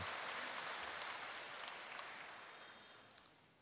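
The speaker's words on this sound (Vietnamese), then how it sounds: "Vậy xin một tràng pháo tay để..." A church congregation applauds during a Catholic archbishop's installation ceremony: a broad, sustained wash of clapping that gradually fades over a few seconds, heard from some distance.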